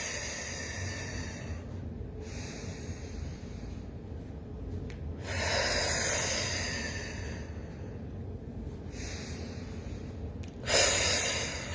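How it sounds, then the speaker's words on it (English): Slow, quiet breathing, with soft breathy inhales and exhales in a few broad swells roughly every few seconds over a steady low room hum, and no talking. "And, breathe in and breathe out."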